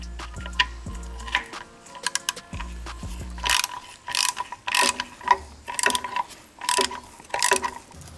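A ratchet works loose 10mm bolts holding a plate under a VW Bug, close rapid clicking in repeated bursts with a low mechanical hum early on, no talking.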